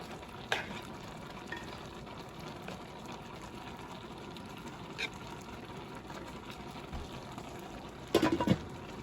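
Noodles get stirred in a frying pan beside steak for Alfredo, with a low continuous sizzle, a few soft scrapes, and a louder clatter of the utensil near the end.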